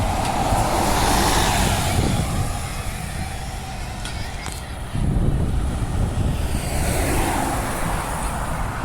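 Road traffic on a Perth street during Christmas Pageant diversions, with a 935 bus coming from Elizabeth Quay: a steady, loud engine and tyre rumble with wind buffeting, swelling again as a heavy vehicle passes close by.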